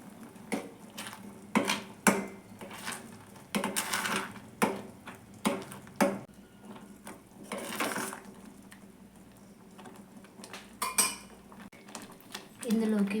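A pot of sago payasam with grated carrot being stirred, a metal spoon scraping and clinking against the vessel in irregular bursts of close, clattering strokes, with quieter gaps between.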